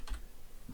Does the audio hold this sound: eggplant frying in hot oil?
no